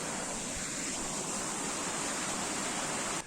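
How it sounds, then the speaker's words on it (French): A waterfall close by, a continuous broadband rush of falling water, loud and unbroken throughout with no voices. "Il y a une cascade pas très loin."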